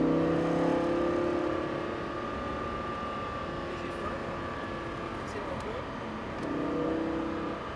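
Lamborghini Gallardo Superleggera engine accelerating on a track, a loud steady roar that swells at the start and again near the end, with an instructor talking over it.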